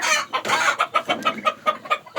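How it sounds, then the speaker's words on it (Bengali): Egyptian Fayoumi laying hens on a farm cluck in a steady rhythmic series of short, close calls, about a dozen pulses with no talking over them. "এগুলো হচ্ছে অরিজিনাল মিশরীয় ফার্মি। এগুলা রানিং ডিম দিচ্ছে।"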